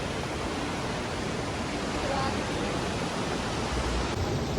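Rain falling at the Manikaran hot springs in Himachal Pradesh makes a continuous, loud hiss of dense broadband wash that stays unbroken and even, with no voices standing out.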